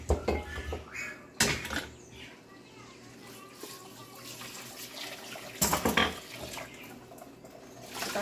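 A cooking pot is washed under a running tap in a farmhouse sink, with steady water flow and two loud bursts of metal clattering against the basin.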